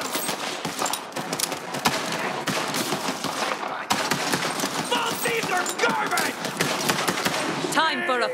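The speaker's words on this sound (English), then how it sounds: "While they're still shooting at me" Dense, rapid enemy gunfire in the video game Borderlands 3, with bursts of automatic shots and scattered single cracks that run without a break, loud and close, mixed with game effects.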